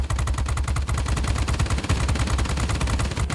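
The rear gunner of a Northrop P-61 Black Widow fires a loud, continuous machine-gun burst in World of Warplanes, a rapid even rattle with no talk over it.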